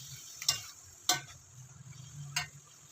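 Pork hamonado being stirred in a pan: three distinct scraping strokes of a utensil against the pan over a low, steady background hum, close and fairly quiet.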